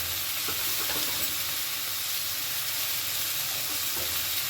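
Pointed gourd and vegetables fry in a pan with a steady, close crackling sizzle, constant throughout with occasional faint stirring.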